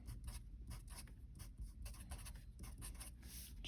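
Hand writing of physics notes on acceleration, a rapid scratchy series of pen or pencil strokes in short bursts, close and steady over a low background hum, with no talk.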